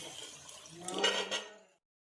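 Half a glass of water is poured into a pot of chicken karahi with spices, a close splashing gush that builds for about a second, then stops abruptly into silence.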